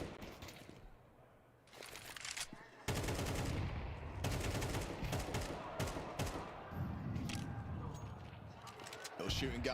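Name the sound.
gunfire in the video game CS:GO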